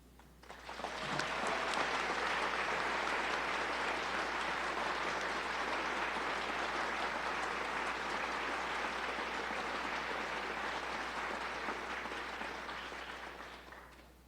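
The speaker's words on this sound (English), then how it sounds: "give our recipients one final round of applause" A long round of steady applause from the audience at a police department awards ceremony, rising quickly, holding full and even, then tapering near the end.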